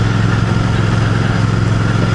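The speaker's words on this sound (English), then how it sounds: "This 648cc parallel twin 270-degree crank Royal air-cooled engine is a beauty" A 2024 Royal Enfield Bear 650's air-cooled 648cc parallel twin with a 270-degree crank runs at a steady idle, loud and close, with an even, unbroken throb throughout and no voices.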